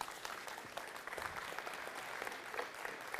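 Audience applause at a workshop on building team culture through gamification, a continuous, fairly faint patter of many hands clapping, steady from start to finish.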